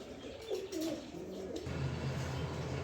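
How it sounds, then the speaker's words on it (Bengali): A pair of white Bombay pigeons giving a soft, low cooing call, faint and brief against steady background noise, with no talk. "এখানে এক পেয়ার সাদা বোম্বাই কবুতর দেখতেছেন"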